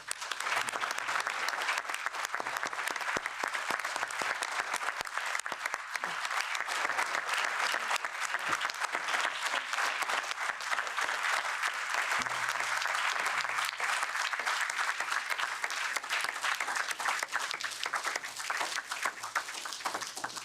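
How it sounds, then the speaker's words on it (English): An audience in a European Parliament meeting room applauds steadily for about twenty seconds, a dense continuous wash of many hands clapping at moderate distance, with faint voices underneath. "can we please give a round of applause to the people that have traveled so far to be here today?"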